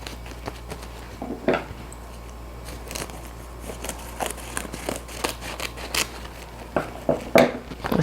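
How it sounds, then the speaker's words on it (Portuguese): A nori seaweed sheet is cut in half, giving scattered crisp snips and crackles of varying loudness over a quiet room hum. "tudo que eu preciso fazer é cortar uma alga de nori ao meio"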